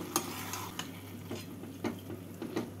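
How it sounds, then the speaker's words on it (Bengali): Fried Gobindobhog rice being stirred in a pan, quiet scattered scrapes and taps of a spatula over a soft low hum, with no talking. "চাল দিয়ে নাড়াচাড়া করে"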